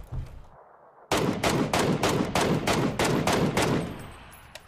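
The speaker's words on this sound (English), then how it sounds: "God, I haven't shot this MK in a while today." Rapid, loud rifle fire from an MK marksman rifle in PUBG: a quiet lead-in, then about eight evenly spaced sharp shots in quick succession, each close and punchy, ending with a brief tail.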